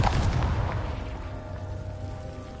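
A Confringo explosion spell going off in a video game: a single deep booming blast at the start that decays into a fading low rumble, loud and close, with no talk over it.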